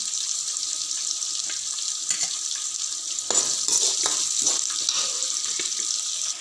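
Chopped onion and garlic sizzling in a hot pan for a potato podimas, a steady crackling fry with occasional stirring scrapes and clatter, close and without speech.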